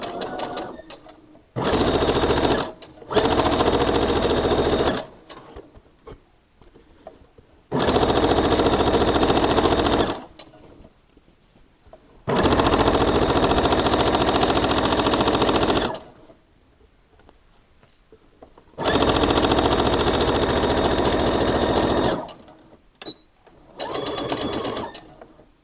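A sewing machine stitches a made-to-measure kimono top in several loud, rapid bursts of a few seconds each, separated by quiet pauses, with no talking.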